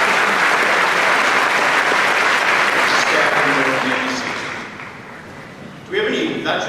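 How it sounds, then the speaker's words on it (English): Audience applause at a high school graduation ceremony, loud sustained clapping that fades toward the end before a voice speaks over a fresh swell of sound. "So let's give them a round of applause"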